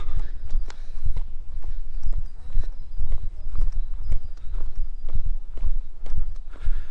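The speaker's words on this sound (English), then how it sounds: "sorry if you can hear the footsteps a lot. It's just impossible to walk in silence when you're walking downhill, especially on these kind of rocks" Steady, crisp footsteps walk downhill over cut rock slabs in Ayazmo Park, Stara Zagora, Bulgaria, each step scuffing and tapping loudly and close, with a faint outdoor background.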